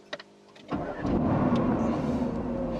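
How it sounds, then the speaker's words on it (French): A Mercedes-AMG GT R fires up after a starter whir, its engine catching with a loud bark and settling into a steady, deep idle that fills the rest of the moment, close by and alone. "Les gars, c'est le moment de démarrer la voiture."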